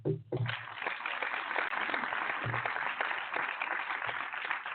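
Applause breaks out on a barbershop talk radio show, a steady wash of clapping from a small group that runs for several seconds after a brief voice at the start.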